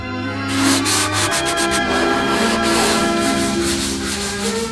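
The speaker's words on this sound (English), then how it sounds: "sanding them down, adding more, sanding it down, just to get everything smooth" Steady, close hand sanding of epoxy filler on an aircraft under restoration, a continuous abrasive rubbing with a rhythmic scratchy texture and a faint tonal hum underneath, no talking.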